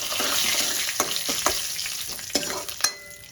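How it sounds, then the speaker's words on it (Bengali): Mustard seeds crackle and pop in hot oil on a home stove, a steady sizzle with several sharp snaps scattered through it, close and fairly quiet. "রাইটা যখন চটপট করে ফুটবে"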